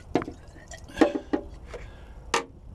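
Fuel drips and splashes from the sump drain of a P-51D Mustang in a few separate wet splats spaced unevenly, close and fairly loud with quiet gaps between.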